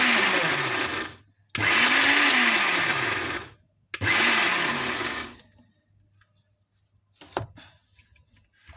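A blender grinds sesame seeds for homemade tahini in three loud bursts separated by short pauses, the motor pitch sweeping as it spins up and slows, then stopping, followed by quiet handling noises.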